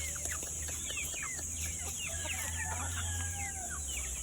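Chickens clucking and calling repeatedly around a farmyard in the aftermath of a typhoon, moderately near over a steady low hum, with overlapping bursts and occasional longer cries.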